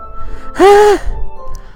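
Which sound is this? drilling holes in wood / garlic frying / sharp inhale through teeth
sharp inhale through teeth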